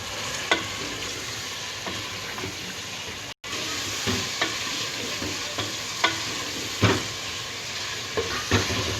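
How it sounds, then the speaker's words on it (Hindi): Boneless beef in garlic ginger paste sizzles steadily in a pan, with occasional clacks of a spoon stirring it, loud and close throughout, with no talking. "लहसुन अदरक के पेस्ट में हम लोग इसे अच्छे से भून लेते हैं।"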